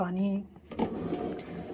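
A pressure cooker lid is shut on a pot of salted mutton and water, giving a short metallic clunk and scrape midway, with a voice talking over the start.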